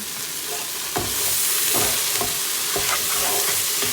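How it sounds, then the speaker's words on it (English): Herbs stirred into a sizzling mixture in a pan for a lasagne sauce: a steady, loud frying hiss runs throughout, broken by several distinct scrapes of the stirring utensil at irregular intervals. "we're gonna add just about 3/4 of these herbs to this mixture and let those really blossom. And give it a stir."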